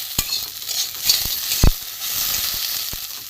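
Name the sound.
potatoes frying in a pan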